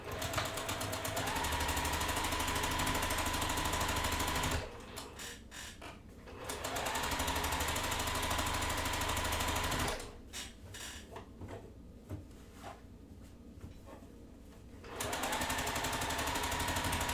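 A sewing machine stitches pinned fabric along a seam allowance, a loud rapid mechanical chatter that stops twice for pauses before resuming.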